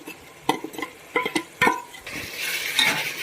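Close clinks and scrapes of a spoon stirring ginger-garlic masala paste in a pan for palak rice, a few sharp knocks, then a soft sizzle of the paste frying in oil rising toward the end.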